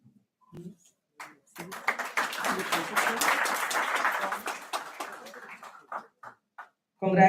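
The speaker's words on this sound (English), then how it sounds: "The claps must go on." Sustained applause from a conference audience, a dense wash of clapping lasting several seconds, with a few scattered claps before and after.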